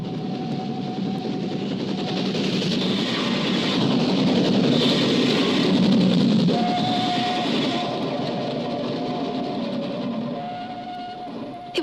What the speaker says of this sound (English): I never thought we'd ever get so near to a train as this.